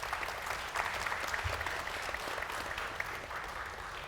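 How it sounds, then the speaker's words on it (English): A panel receives steady, fairly quiet applause from a seated audience at a chaired discussion event, an even wash of clapping with no voices standing out. "Give our panel a round of applause and welcome them."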